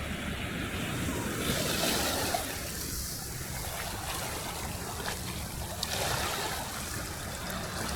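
Waves wash onto a small stony beach in Athens, a steady broadband rush of surf mixed with wind noise, continuous and fairly close, with no talk over it.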